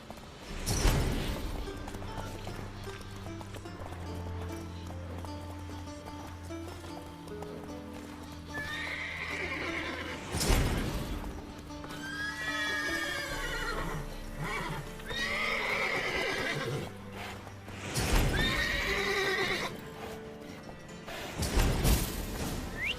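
Horses in a stable in The Witcher 3 neigh and whinny repeatedly amid shuffling hooves and clip-clopping, with sharp loud thumps and crashes between the calls over a low musical drone.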